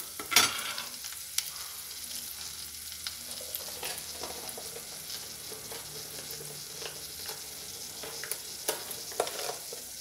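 Mustard seeds and green chillies sizzle and crackle steadily in hot oil in a pan, with sharp popping seeds and occasional stirring clinks, close and continuous.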